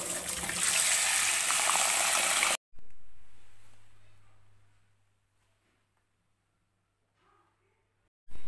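Lentils and rice are rinsed in water in a home kitchen: a loud gushing pour with swishing, then a quieter slosh that fades to near silence before water splashes again at the end.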